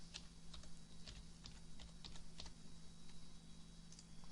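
Keystrokes on a computer keyboard as a passphrase is typed, a steady run of about a dozen close, crisp clicks in uneven rhythm over a low electrical hum, with no voices.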